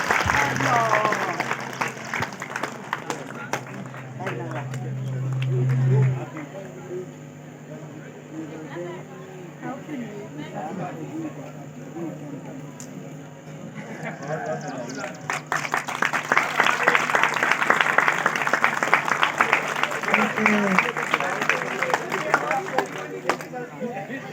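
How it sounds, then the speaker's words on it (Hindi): Audience applause for parents honoured at a school award ceremony in Uttarakhand, a dense crowd clapping that swells and continues for many seconds, with an announcer's amplified voice over the hall speakers. "जोरदार तालियां उनके लिए"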